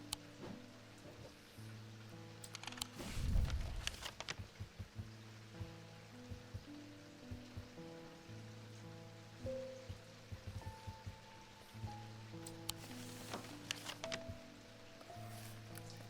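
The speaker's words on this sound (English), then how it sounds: "Raining again." Soft rain patters faintly in the video game Strange Antiquities, under quiet sustained tones, with a brief louder splash near the start.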